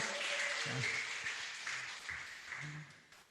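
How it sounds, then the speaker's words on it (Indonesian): Applause fills the room at a university farewell ceremony for a professor, a dense, moderately faint patter of many hands with a voice speaking underneath. "Tepuk tangan dulu semua ya"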